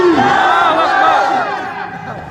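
A crowd at an Eid Milad-un-Nabi religious gathering roars the Naara-e-Takbeer slogan in loud unison, the massed shout swelling at once and then slowly fading over a couple of seconds.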